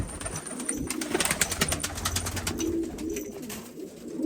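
Pigeons coo softly and repeatedly at close range amid busy rustling and fluttering, with no talking.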